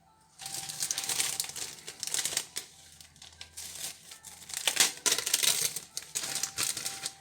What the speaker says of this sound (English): Maybe I'll actually crumple up the nori in sheets instead.